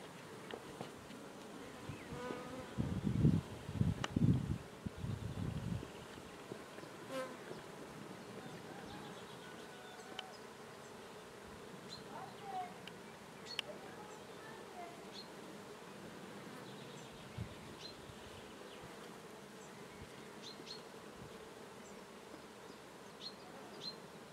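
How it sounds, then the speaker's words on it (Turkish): Honeybee swarm settled on a hazelnut branch in a Black Sea village, a constant close buzzing drone with individual bees passing louder near the start, steady and fairly quiet overall, with no talk. "arı fındık dalına oğul kondu"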